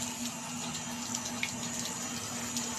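Continuous rush of water flowing from a solar-powered pump into farm fields over a low steady mechanical hum, even and unbroken throughout.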